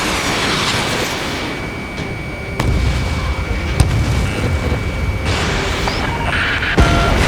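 Missile launches and heavy explosions in the Ace Combat 7 jet combat game, a loud continuous roar of engines and blasts, with sharp impacts near the middle and again near the end.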